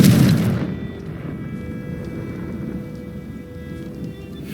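Confringo explosion spell cast in the video game Hogwarts Legacy, a loud fiery blast at the start that rolls off into a long, low, rumbling decay with a faint sustained tone beneath.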